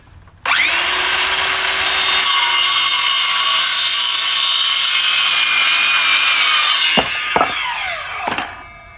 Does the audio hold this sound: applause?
no